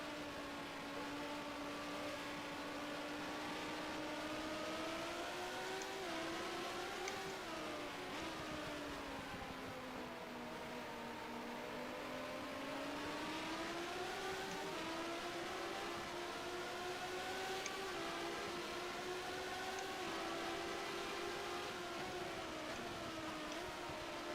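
Formula 1 race car engine from rFactor's 1990 season at Hungary, a loud continuous high-pitched whine that climbs and falls with each gear change and throttle lift, steady throughout with no talk.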